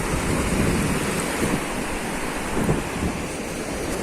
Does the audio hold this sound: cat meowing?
no